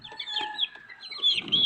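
Young fighting-breed chicks peck at prawn feed and give loud, close, high clucks and chirps in quick overlapping bursts.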